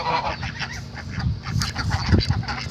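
Several moulting geese on a farm honk repeatedly at close range, overlapping nasal calls in an irregular chorus.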